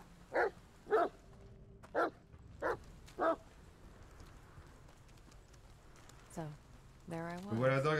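A small dog barks in The Medium video game: five sharp, evenly spaced yaps close up over a quiet backdrop, followed by a pause and then a person talking.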